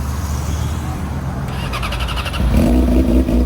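A motorcycle at a bike night in Austin, Texas, cranks over and starts, then settles into a loud, close, low engine rumble with a brief rev in the final second.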